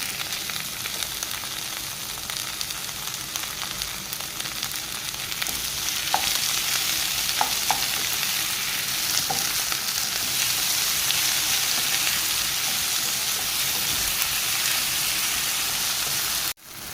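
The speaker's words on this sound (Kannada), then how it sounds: "ಇದಕ್ಕೆ ನಾವು ಈಗ ಟೊಮೆಟೊವನ್ನು ಸೇರಿಸ್ಕೊಳ್ಳೋಣ. ನಾನು 2 ಟೊಮೆಟೊ ಹಾಕ್ತಾ ಇದ್ದೀನಿ." Two tomatoes go into ginger-garlic paste sizzling in a pan for squid masala, producing a loud, continuous hiss of frying with a few stirring scrapes, close and steady until an abrupt stop.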